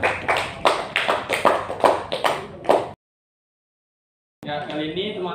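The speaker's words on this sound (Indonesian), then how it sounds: "kita beri tepuk tangan dulu untuk semuanya" Children clap in a classroom in a short burst of rhythmic, fairly close hand claps that stop suddenly into silence, after which a voice begins speaking.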